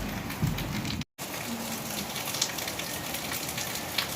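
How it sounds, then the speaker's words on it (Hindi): Heavy rain falls steadily in a broad, continuous hiss that stays loud and even throughout, with a brief dropout near the start. "अभी उठे तो पता चल रहा है कि ज़ोर से बारिश हो रहा है।"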